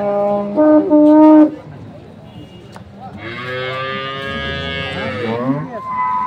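A dairy cow moos at the Ambari cattle market in Dinajpur. Two long, loud, close lowing calls are separated by a brief pause, with light background noise from the market.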